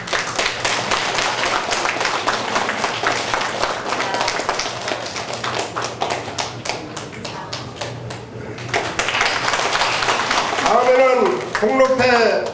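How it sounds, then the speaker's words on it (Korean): Welcoming applause from an audience at a plaque presentation during a national sijo chanting contest, dense sustained clapping with a voice speaking over it in the final seconds. "박수로 환영해 주시기 바랍니다"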